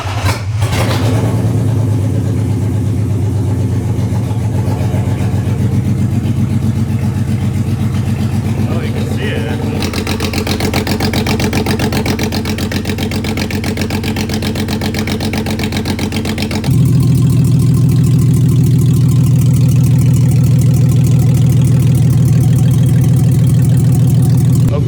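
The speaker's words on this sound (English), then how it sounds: "So we're gonna start the car, let it warm up, shift through a couple gears." A manual-swapped BMW E36 cranks and catches, then idles roughly while warming up. The loud, close, steady engine drone changes character partway through and then holds at a heavier, louder level.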